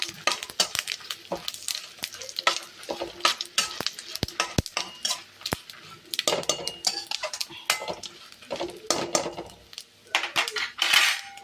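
Spices and curry leaves fry in a pan for a Tulu-style dried mussel sukka, heard as irregular metal clanks and scrapes of a spoon against the pan over a faint sizzle, close and uneven.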